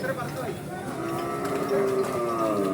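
Low lowing moos from young buffalo at a livestock market, amid a busy, crowded outdoor din, with voices murmuring in the background.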